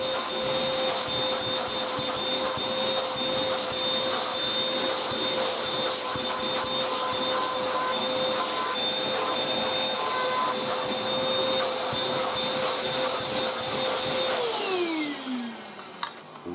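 Beaumark BM222 V600 TinyTurbo handheld vacuum cleaner whines loud and steady close by, then winds down with a falling pitch near the end.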